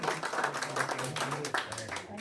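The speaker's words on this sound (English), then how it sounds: "Should we give a pre-cake round of applause?" Brief round of clapping from a small group indoors at a senior project celebration, steady and moderately loud over about two seconds with voices mixed in.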